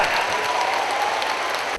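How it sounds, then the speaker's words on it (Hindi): Loud, dense applause from a large audience giving a standing ovation at a political ceremony, a continuous roar of clapping that holds steady to the end. "खातीन और हज़रात, स्टैंडिंग ओवेशन।"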